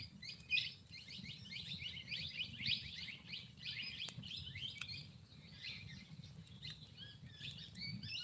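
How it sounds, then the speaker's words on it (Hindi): Many birds chirp outdoors among bamboo, a dense, continuous chorus of quick high tweets at moderate distance, fairly quiet over a low background rumble, with no one talking. "बहुत चिड़िया की आवाज आ रही है।"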